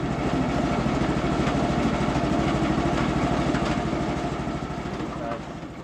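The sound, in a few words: coffee peeling machine separating beans from skins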